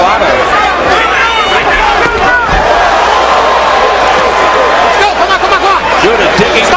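A boxing crowd roars loudly and steadily at a fight between Zab Judah and Cory Spinks, a dense wash of cheering and shouting that swells with a few sharp slams and stays close throughout.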